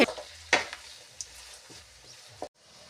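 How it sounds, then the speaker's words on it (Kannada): Tomatoes and onions frying in a pan with a spoon stirring them, giving a soft hiss and a few sharp scraping clicks against the pan before the sound cuts out near the end. "ಈ ಟೊಮ್ಯಾಟೊನು ಚೆನ್ನಾಗಿ ಮೆತ್ತಗಾಗಬೇಕ್ರಿ ಎಲ್ಲ ಗರ್ನಿ ಒಳಗೆ ಟೊಮ್ಯಾಟೊ ಮೆತ್ತಗಾಗಬೇಕು ಆಗೋ ತನಕ ಅದನ್ನು ಫ್ರೈ ಮಾಡಿಕೊಳ್ಳರಿ"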